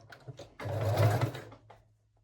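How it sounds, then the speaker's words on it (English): A sewing machine stitching decorative elastic onto the waistline of panties, heard close as a few light taps and then a single fast, whirring burst of about one second that quickly dies away. "sew it along the waistline"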